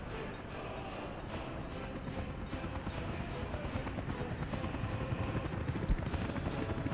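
A helicopter in the city-building game Workers & Resources drones with a steady low rotor rumble, continuous and moderately distant.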